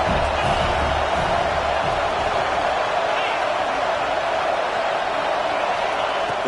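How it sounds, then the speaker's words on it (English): Stadium crowd noise from a college football video game, a dense, steady roar of a large crowd cheering during a red zone defensive stand, loud and continuous, with faint talk underneath. "here comes the noise. This crowd is trying to inspire this defense to make a big red zone stop."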